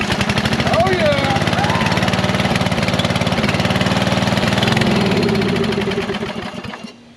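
A Toro riding lawn mower engine runs steadily at a loud, close, rhythmic chug, with voices talking over it, before it slows and cuts out near the end.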